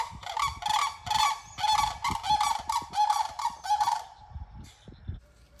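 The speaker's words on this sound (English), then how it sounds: "I want to give you a weekly update on the sand cranes and their little babies on the nest." Sandhill cranes at their nest give loud, rolling trumpeting calls in repeated bursts for about four seconds, close and strong, then fade into quieter outdoor noise with no speech.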